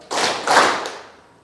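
Two sharp hand claps in a classroom, spaced about half a second apart, crisp and close with a short room ring after.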